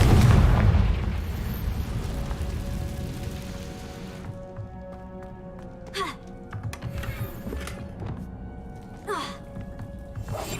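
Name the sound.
Confringo fire-blast spell explosion, Hogwarts Legacy video game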